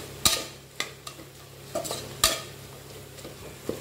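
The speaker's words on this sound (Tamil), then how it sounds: "இப்போ இது நல்லா வதங்கட்டும். நல்லா தக்காளி நல்லா குத்தி குத்தி விடுங்க." Tomatoes sautéing in a pan for a millet rice dish with drumstick leaves, as a spatula scrapes and taps the pan in irregular strokes over a soft, faint sizzle, with no talk.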